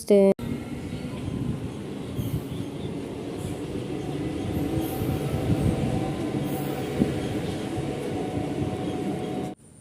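A passenger train runs steadily on its rails on the way to Jagpur station in West Medinipur, a continuous low rumble close by from start to finish, with faint voices beneath it.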